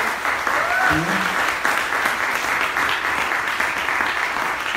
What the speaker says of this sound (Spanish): un aplauso de bienvenida